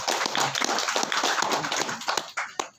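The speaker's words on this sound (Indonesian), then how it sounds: "tepuk tangan buat beliau" An audience at a religious gathering claps for a preacher, a dense, steady patter of many hands at moderate distance, fairly quiet and fading slightly toward the end.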